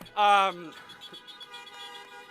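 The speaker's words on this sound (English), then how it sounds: "Parents, you can honk at that" Car horn honking by parents at an outdoor high school graduation ceremony, one loud toot up front followed by fainter overlapping horns in the distance.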